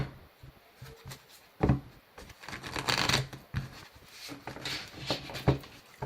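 Large oracle cards are handled and shuffled, a run of close, crisp riffles and slaps with uneven pauses and no talking.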